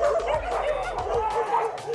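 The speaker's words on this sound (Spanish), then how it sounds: "dos jóvenes fueron atacados por una jauría de perros" A pack of stray dogs attacks two young men seated on a street curb in Metepec, State of Mexico, barking, yipping and whimpering over one another in a dense, continuous, loud chaotic chorus with a faint voice underneath.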